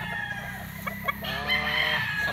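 A Red Kelso gamefowl rooster on a game farm crows once, loud and close, after a few short clucks and calls.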